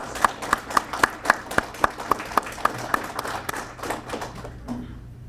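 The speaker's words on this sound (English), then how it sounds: "I think that deserves a round of applause." Applause at a venture competition news conference comes as a run of sharp, evenly spaced claps standing out over a softer bed of scattered clapping, then fades away.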